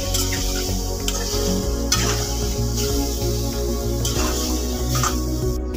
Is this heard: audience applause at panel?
no